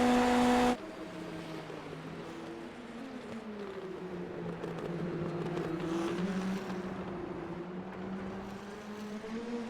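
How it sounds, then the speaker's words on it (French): Indy NXT open-wheel race cars at Indianapolis drone steadily past at a distance, a sustained engine whine rising and falling slightly as one car closes in on another's slipstream, with no talk over it. "on voit Mérino, là, qui s'approche avec l'aspiration"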